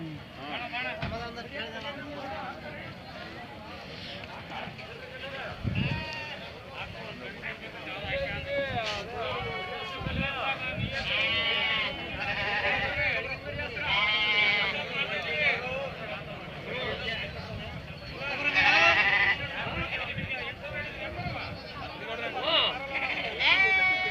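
Sheep and lambs bleat at the Gandasi lamb market, scattered cries rising over a busy crowd while people talk and bargain close by throughout.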